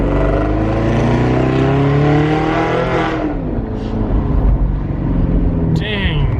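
Exotic car with exhaust valves open, revving hard close up, loud roaring engine climbing through rising and falling revs, then settling into a rumbling drive with voices faintly underneath.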